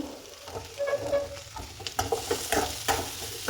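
Spices frying in a pan give a close, steady sizzle with scattered crackles and a few sharper stirring clinks, loud and clear with no voices.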